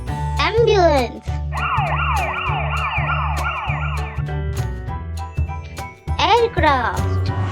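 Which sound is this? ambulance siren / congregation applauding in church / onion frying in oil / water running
ambulance siren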